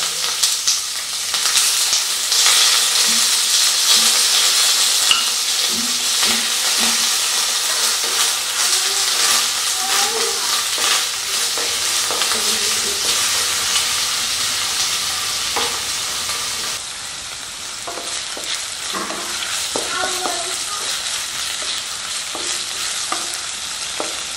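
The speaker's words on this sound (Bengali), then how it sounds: "আমাদের পেঁয়াজ ভাজা হয়েছে।" Onions fry with a constant hissing sizzle, occasionally stirred with light scraping, the sizzle quieting a little toward the end.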